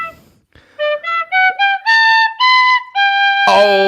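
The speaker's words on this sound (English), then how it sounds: "there isn't a podcast out there that is playing you out with the tin whistle" Tin whistle played close and clear, a quick rising run of distinct bright notes leading into longer held tones, ending in a brief louder burst, no talking.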